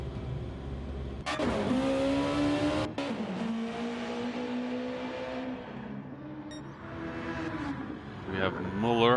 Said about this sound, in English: The NSX is on track in H-Boss's hands.